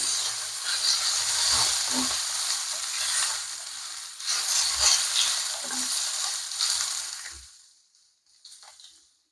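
Bitter gourd pieces and chopped tomato fry in a pan with a loud, bright, steady sizzle and occasional stirring, the sizzle easing for a moment midway and then fading to near quiet at the end.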